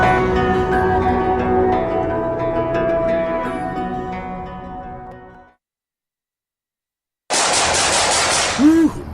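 Rapid automatic gunfire from what sounds like an AK-47 rattles loud and close in long bursts, then cuts to silence before a sharp, bright burst of shots with a ringing tone returns.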